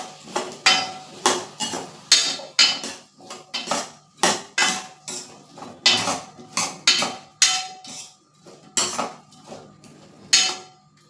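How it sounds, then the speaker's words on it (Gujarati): Onion and potato curry with turmeric and salt being mixed in a pot, a brisk run of about twenty sharp metallic clanks and scrapes of a spoon against the vessel, close and loud with no talking. "સ્વાદ અનુસાર મીઠું એડ કરીશ અને ફરીથી બધું બરાબર મિક્સ કરી લઈશ"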